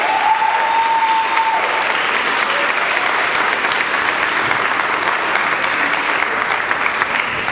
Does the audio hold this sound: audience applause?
yes